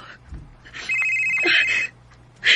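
A phone rings with an incoming call, a bright repeating electronic tone lasting about a second and then starting again, with a low background hum and a brief voice near the start.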